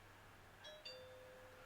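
A household doorbell gives a quick two-tone ding-dong, faint and brief against a quiet indoor hum.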